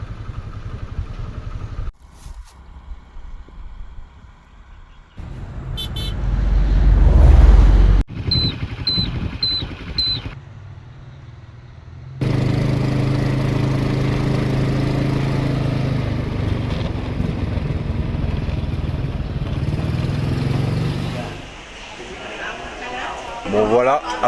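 Scooter travel along a road in Vietnam between Ben Tre and Tra Vinh, with engine drone, passing traffic and clatter shifting in loudness, interrupted by abrupt cuts, and people talking over parts of it.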